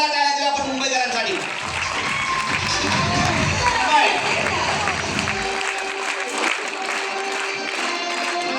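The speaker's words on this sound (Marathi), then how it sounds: "जोरदार टाळ्या देऊया आपण मुंबईकरांसाठी" An audience applauds loudly, a dense continuous wash of clapping that carries through the whole stretch, with voices and a few shouts mixed in among the crowd.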